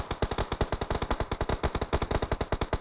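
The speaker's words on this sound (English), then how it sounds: "It does seem like Mags and IMX were taking some shots up there with Hardy, getting Hardy" Automatic gunfire in a competitive video game match, a rapid, evenly spaced burst of loud, close shots firing continuously without pause.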